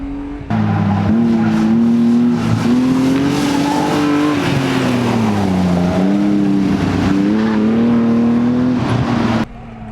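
A BMW E36 M3 engine revs hard and loud, its pitch climbing and dropping as it shifts through the gears, with a steady roar close by.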